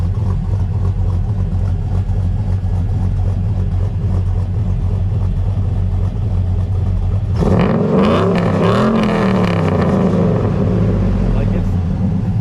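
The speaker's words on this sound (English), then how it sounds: "We'll give it a rev." A 1994 Chevy Silverado pickup with a swapped LS V8 idles with a steady choppy rumble, then revs sharply and climbs several times in quick succession, loud and close to the engine.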